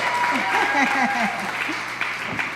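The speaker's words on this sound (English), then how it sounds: "can we give another round of applause to our Katherine Roundtree Advocacy Award recipients, Ellen and Frank" An audience claps at a fall fundraising event in Rochester, New York, a dense, steady patter of many hands filling the room while someone speaks over it.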